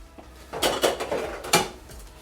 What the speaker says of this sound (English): Dirty dishes. Cleared away.